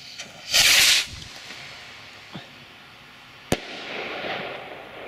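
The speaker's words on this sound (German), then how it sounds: "Nico Rakete Turbo in Blau" Nico Turbo blue firework rocket whooshes up in a loud hissing burst, followed by faint crackles and a sharp distant bang as it explodes, then a fading fizzing tail, with no voices.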